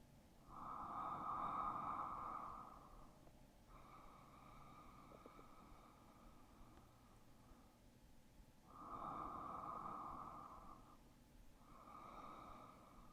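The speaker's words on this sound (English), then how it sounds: "We'll take 5 more slow, deep breaths here." Slow, deep breaths during a yin yoga hip practice, with two long swelling inhale-exhale cycles rising and fading, close and clear with no talking.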